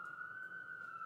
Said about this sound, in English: just as I start to film, we have Sirens.